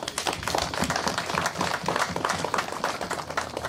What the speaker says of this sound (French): mais je voudrais qu'on les applaudisse aussi